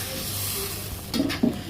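Katla fish heads frying slowly in a pan with dal nearby, giving a faint steady sizzle with a few soft stirring scrapes near the end.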